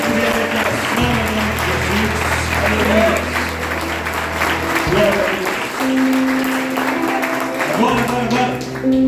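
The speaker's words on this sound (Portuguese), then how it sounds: "Dá uma salva de palmas aos irmãos que trabalharam para construir a decoração." Warm applause fills a church during a Christmas service, steady clapping from the congregation with a sustained musical tone and some voices mixed underneath.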